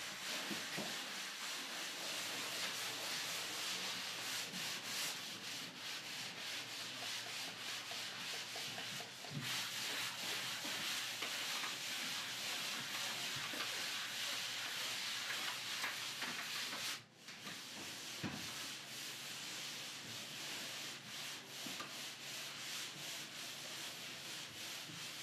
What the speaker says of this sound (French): Poncez tout avec un grain fin afin de ne pas laisser de traces dans le plâtre appliqué.